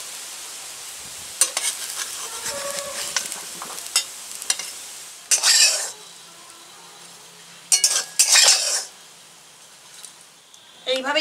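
Lentil fritters (bora) fry in oil over low heat, giving a steady crackling sizzle broken by louder bursts of spatula scrapes and utensil clinks.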